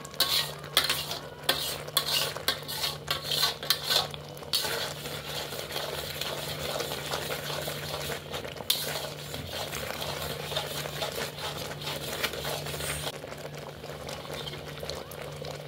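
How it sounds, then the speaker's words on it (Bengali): Milk thickening in a pan for burfi is stirred continuously, a steady scraping and swishing of a utensil against the metal with faint bubbling, close and fairly quiet, with brief clinks early on. "যখন দুধটা দেবে এরকম ঘন হয়ে এসছে অনেকটা, তখন এটাকে কন্টিনিউ নাড়তে হবে"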